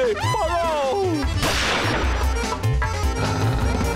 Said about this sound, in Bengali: আমার ওপর গুলি চালালো